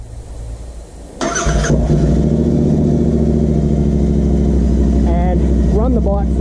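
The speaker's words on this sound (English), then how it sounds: "and run the bike for a few minutes to give the ECU time to learn that there's new airflow." A Royal Enfield Interceptor motorcycle engine cranks and fires after about a second, then settles into a loud, steady, low idle close by, with a voice speaking briefly over it near the end.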